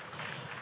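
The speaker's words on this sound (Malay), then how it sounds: "Kita berikan tepukan yang paling gemuruh sekali lagi tuan-tuan puan-puan." Applause from an audience at a community forum on technical and vocational education rises as a dense, steady wash of clapping, faint and brief, with no talk over it.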